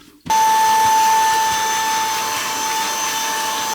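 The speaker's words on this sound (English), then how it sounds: "what I need now is for you to get in here with the hoover" A vacuum cleaner switches on abruptly and runs at a steady, loud whine while cleaning newly fitted carpet inside an Elddis Autoquest 155 motorhome, holding a constant drone until it cuts off at the very end.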